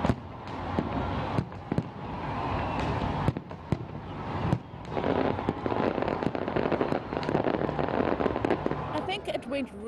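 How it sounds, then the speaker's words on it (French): New Year fireworks display with dense, continuous bangs and crackling bursts, loud and close, mixed with crowd voices talking and cheering throughout. "un majestueux spectacle de feux d'artifice a été organisé pour marquer le passage à la nouvelle année"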